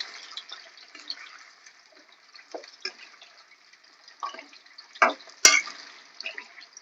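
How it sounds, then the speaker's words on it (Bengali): Raw green banana slices dropped into hot white oil, giving a steady bubbling sizzle with a few louder splashy crackles as pieces hit the oil. No voices are heard. "তেল গরম হয়ে গেছে। এবার এই কলা আমি এর মধ্যে এইভাবে ছেড়ে দেবো"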